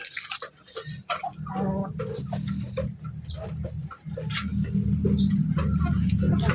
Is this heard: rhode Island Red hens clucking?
yes